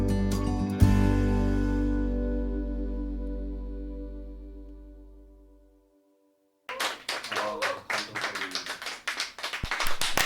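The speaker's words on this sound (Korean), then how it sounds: "박수가 너무 망설이면서 쳐" Scattered, hesitant clapping from an audience at a literary talk show, a sparse uneven patter of hands that follows a fading sung phrase and a short silence.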